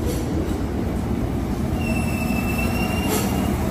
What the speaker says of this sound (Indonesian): itu dia KRL yang telah datang dengan warna khas, warna stainless steel yang tampak kokoh